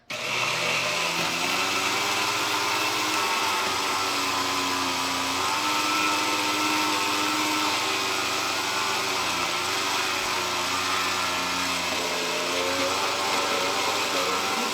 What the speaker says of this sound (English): I'm going to blend it on high, and I'm going to put it on chop